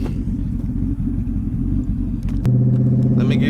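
A Lexus SC400 engine with an aftermarket exhaust idles with a deep, steady burbling rumble, then steps up to a louder, smoother drone about halfway through as the revs rise, close and clear with no talking.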